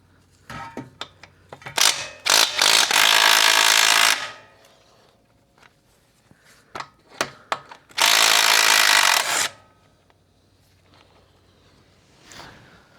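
Power tool on a John Deere Z355E riding mower, whirring in two sustained bursts of a few seconds each, with short clicks, knocks and taps of work between them.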